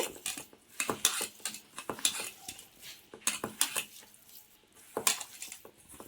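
A spoon stirs and mixes chicken pakoda batter in a bowl, giving repeated clinking scrapes against the dish in an irregular rhythm, close and fairly quiet.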